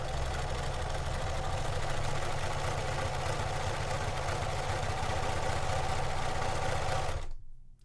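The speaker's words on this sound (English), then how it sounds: "you're going to see how quickly a serger creates a nice, beautiful finished edge" A serger sewing machine runs steadily for about seven seconds as it overlocks a finished edge on fabric for a ruffle, a loud continuous motorized whir and rapid stitching buzz that cuts off abruptly near the end.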